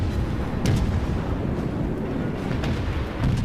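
Warship main guns fire in the World of Warships naval battle game, a dense, heavy low rumble of booming salvos that runs continuously across the whole stretch, with a couple of sharper blasts standing out.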